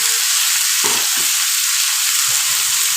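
Potato and eggplant with turmeric fry in a pan for a curry, giving a loud, even sizzle with a few brief low scraping bumps from stirring.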